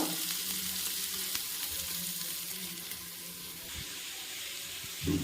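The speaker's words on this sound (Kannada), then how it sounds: "ಈರುಳ್ಳಿ, ಬೆಳ್ಳುಳ್ಳಿ, ಕಸ್ತೂರಿ ಮೇಥಿ, ಪಲಾವ್ ಎಲೆ ಇಷ್ಟನ್ನು ಹಾಕಿ ಚೆನ್ನಾಗಿ ಫ್ರೈ ಮಾಡ್ಕೋಬೇಕು." Onion, garlic, kasuri methi and bay leaf frying in a pan for pulao, giving a steady close sizzle with light stirring scrapes throughout, no talking.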